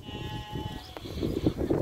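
Sheep and lambs bleat at a livestock sale, several overlapping calls rising and falling over steady farmyard background noise, fairly close and moderately loud.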